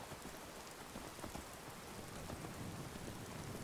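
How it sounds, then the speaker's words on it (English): Steady rain falls in Skyrim Special Edition, a dense even hiss of drops on surfaces with faint low rumbles beneath, continuous and close throughout with no voices. "Oh, I just want the rain to let up."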